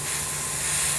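Airbrush spraying black paint around the edge of a stencil for a tattoo-style design, a steady close hiss held evenly for about a second with no voices.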